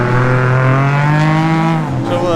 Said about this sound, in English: This is Tasha and Mason's time to come see some actual drifting.